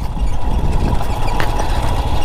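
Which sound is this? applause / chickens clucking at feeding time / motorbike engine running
motorbike engine running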